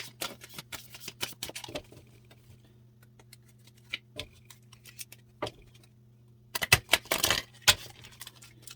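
Soft papery flicks and riffles of cards being shuffled by hand, in short bursts with pauses, ending in a quicker flurry of shuffling.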